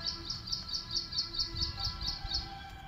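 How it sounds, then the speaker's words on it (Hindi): Tailorbirds and other birds in a garden give a rapid, evenly spaced series of about a dozen high, bright chirps, fairly close and clear over soft background noise. "आपको आवाज़ भी आ रही होगी, बहुत सारी चिड़ियाँ हैं।"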